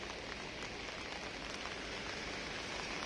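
Steady rain pours down continuously on a surface, a dense even hiss with scattered drop patter and no voices.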